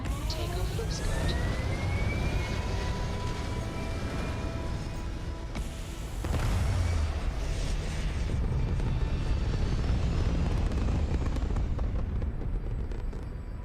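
Spaceship engines roaring during takeoff in the video game Starfield: a steady, dense broadband rumble that holds loud throughout, swelling slightly past the midpoint, with faint rising tonal whines layered over it.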